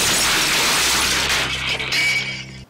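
Mirror glass shatters loudly in a horror film scene, a sharp burst of breaking glass followed by tinkling shards settling and fading out.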